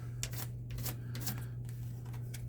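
Playing cards are shuffled by hand, giving a string of quick riffling bursts and soft slaps at close range over a low steady hum, with no one talking.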